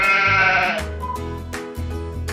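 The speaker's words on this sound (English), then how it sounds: "sheep," A sheep bleats loudly and close up, a wavering, nasal cry followed by shorter repeated bleats, with nothing else around it.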